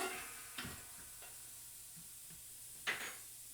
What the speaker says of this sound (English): we're going to start sauteing those onions just a little bit